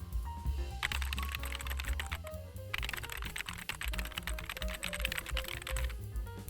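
Rapid keystrokes typing a search on a PSY Board keypad, close and fairly quiet, with irregular clicky taps in quick bursts and a brief pause between them.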